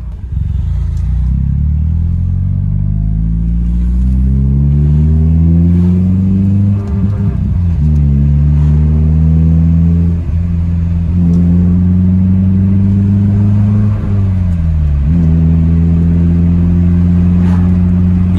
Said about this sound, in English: really hope you guys can hear the exhaust sound or tone properly.